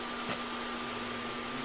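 A household vacuum cleaner runs with a steady, loud motor whine and airflow hiss throughout, alone without talk, while being used to suck up insects indoors.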